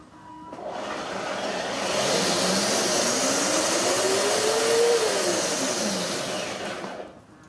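A Power Wheels 24-volt Kidtrax ride-on car motor under slowly rising throttle gives a loud, steady electric whine that rises in pitch, holds, then winds down, with broad whirring noise throughout and no talking.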